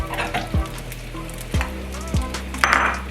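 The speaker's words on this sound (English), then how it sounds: "Now I'm going to fry the rice in this bacon oil" Rice frying in rendered bacon grease in a pan, a steady close sizzle broken by a few sharp clanks of a utensil stirring against the pan.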